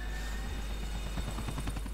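A helicopter during a GTA IV The Ballad of Gay Tony mission, its rotor thumping in a fast steady pulse over a constant low engine hum, alone and moderately close.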